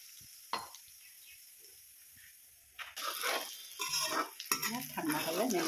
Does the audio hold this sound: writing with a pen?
no